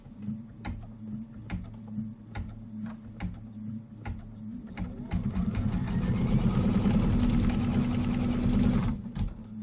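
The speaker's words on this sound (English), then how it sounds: "So white thread on top, and let's stitch the foundation placement line." An embroidery sewing machine stitching a foundation placement line in white thread on a Kimberbell pillow wall hanging: sharp periodic clicks over a low hum, then a loud, fast, buzzing run of stitches that stops abruptly.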